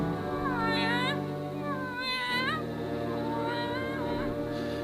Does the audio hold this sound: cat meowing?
yes